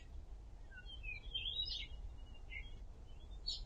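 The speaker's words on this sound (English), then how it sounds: "That bird is gonna be there, like, all the time in here?" A bird in The Search calls in a few faint, high, scattered chirps and whistles over a quiet low ambient hum.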